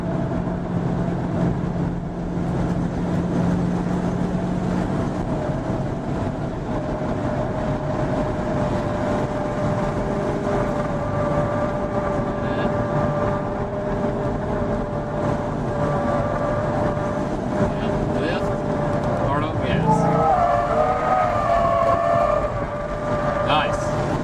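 A car sliding around a skidpad, a steady droning engine note held throughout with faint tire noise rising near the end, heard under ongoing talk.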